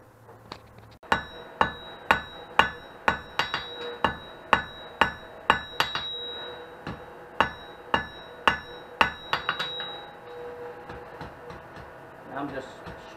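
Hammer blows ring out on a twisted steel handle at a blacksmith's forge, about twenty sharp metallic strikes in a steady rhythm, close and loud, with faint low background noise and a few lighter taps at the end.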